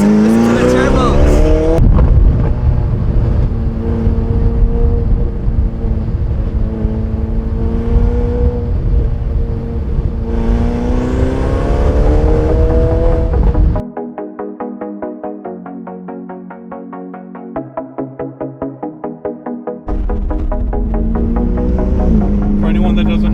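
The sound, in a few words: Ferrari 488 GTB with stage 2 upgraded turbos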